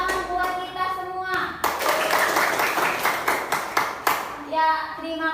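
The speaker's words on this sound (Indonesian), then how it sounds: "Sekali lagi tepuk tangan buat kita semua." A classroom group claps together for about two and a half seconds in a lively, dense burst, with a voice speaking before and after the clapping.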